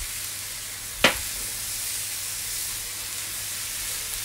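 Ice dropped onto a hot griddle beside cheeseburgers: a sharp hissing sizzle bursts out at once, then settles into a steady, close steam hiss with no talking.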